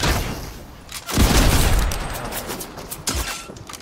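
Gunfire in the video game Fortnite, with several bursts of shots in quick succession. A loud crack lands near the one-second mark, another around three seconds, and a dense wash of shooting fills the gap between them.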